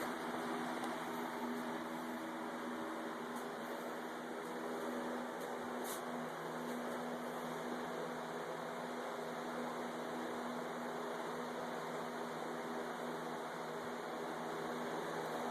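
A Grizzly lathe runs in a home workshop, giving a steady, even motor hum with a faint high whine that holds unchanged throughout, with no voices.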